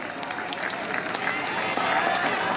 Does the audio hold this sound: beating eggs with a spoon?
no